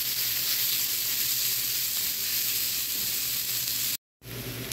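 Grated chicken fries with vegetables in a pan, giving a continuous close sizzle with a brief break near the end before the frying resumes.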